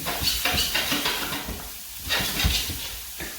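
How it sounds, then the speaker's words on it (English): Onions sizzle and crackle in a hot frying pan, loud and close, with faint stirring and scraping pulses. "The onions are now sizzling."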